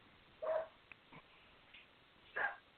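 A dog barks twice in the distance, a couple of seconds apart, with a few faint yips between; the sounds are soft and sit in an otherwise quiet background.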